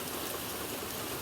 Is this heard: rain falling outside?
yes